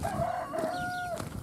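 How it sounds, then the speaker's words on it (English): A rooster crows right beside the listener, a loud, close drawn-out call with a rising then held tone lasting over a second, with outdoor background noise. "This rooster was right next to me"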